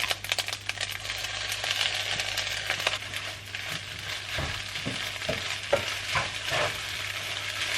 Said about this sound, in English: Then adding in the curry sauce.